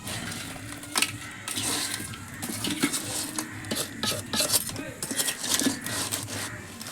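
A spoon stirs and scrapes through a thick salted mixture in a metal pot, with repeated clanks and knocks against the sides.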